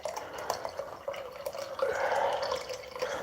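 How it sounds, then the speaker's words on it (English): Coffee pours from a pot into a cup in a quiet room, a soft, steady liquid trickle and splash lasting a few seconds at close range. "I'm just pouring coffee."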